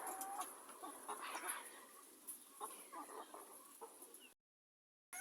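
Several New Hampshire chickens cluck softly and intermittently at a faint level in a quiet coop, with brief higher chirps mixed in, before the sound cuts out near the end.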